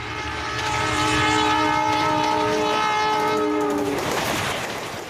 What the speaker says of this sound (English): the super-fast express trains command the rails